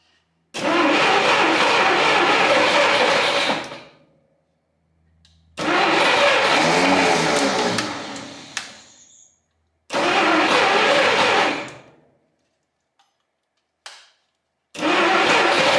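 A 1959 Studebaker Lark engine, sitting for 36 years, cranks and catches in three loud, sputtering bursts of several seconds each, separated by silent pauses, with a brief fourth attempt at the end.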